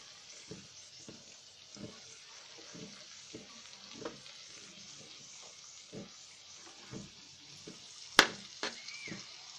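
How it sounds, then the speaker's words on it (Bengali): Onions and tomatoes frying together in a pan for a prawn dish give a soft, steady sizzle with faint stirring taps and one sharp clink near the end; quiet and close, with no voices. "আমি পেঁয়াজটা ভাজা ভাজা হওয়ার জন্য কিছুক্ষণ অপেক্ষা করছি"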